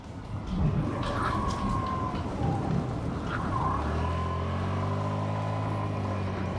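Hero Xoom 125cc scooter riding over a rough, unpaved non-tarmac road, with a steady engine drone and road rumble, wind noise close to the rider, and a rising engine tone toward the end.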